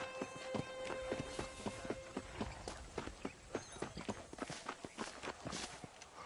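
Steady clip-clop of a horse's hooves while riding in Red Dead Redemption, a brisk rhythmic trot of close, distinct hoofbeats over faint ambient tones.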